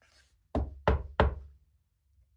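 Three firm, evenly spaced knocks on a wooden door ring out close and crisp during a children's story reading, then silence.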